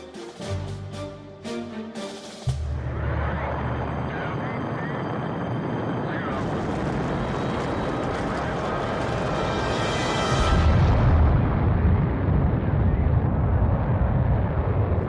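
An experimental Vanguard rocket explodes into a fireball, heard as a sudden, massive roar that settles into a steady, dense rumble and swells louder toward the end.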